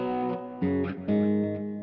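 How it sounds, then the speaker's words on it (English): Sustained electric guitar chords with a wet, splashy spring reverb and echoing tape delay repeats, several chord changes ringing out with nothing else playing. "Just a little bit of a spring reverb and a little bit of tape delay,"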